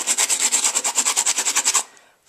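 Sandpaper scrubbing paint off a glass mason jar in quick rhythmic strokes, about a dozen close, even rasps in a steady beat before stopping.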